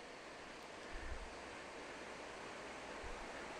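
The Sema River in Altai flows in a soft, steady rush, a continuous wash of water noise heard at a distance and fairly quiet, with no voices and only slight swells in level.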